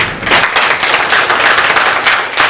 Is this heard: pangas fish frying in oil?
no